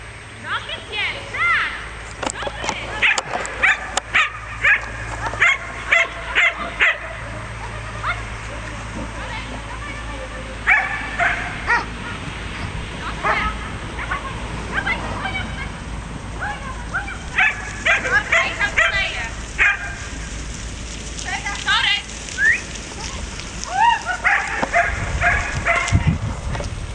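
Collie herding dogs bark and yip in repeated bursts while someone shouts commands in Polish over them as they herd sheep, the barking coming in clusters with short pauses.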